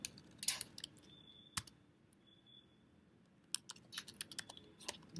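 Keys on a computer keyboard are struck in quick bursts of sharp clicks, with an early cluster, a single loud tap, a pause and then a denser run of keystrokes near the end; close and alone.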